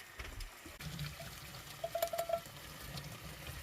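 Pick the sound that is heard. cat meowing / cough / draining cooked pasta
draining cooked pasta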